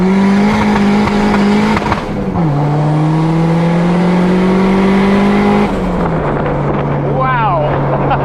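A turbocharged D16 engine in a Honda Civic accelerates hard from inside the car, droning loudly as revs climb through gear shifts with brief dips, with wind noise throughout and a turbo whistle near the end.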